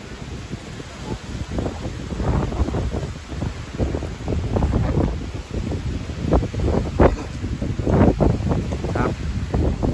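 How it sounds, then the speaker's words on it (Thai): Strong morning wind buffets the microphone high on Khao Chang Phueak mountain in Khao Laem National Park, Kanchanaburi, as a continuous loud, gusting rumble that swells and dips. "ลมแรงนะฮะ"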